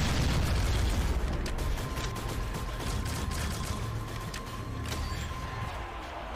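A plasma gun fires rapidly in Shadowgun Legends, a dense, continuous burst of shots packed so tightly they blur into one loud, roaring stream that eases slightly after the opening second.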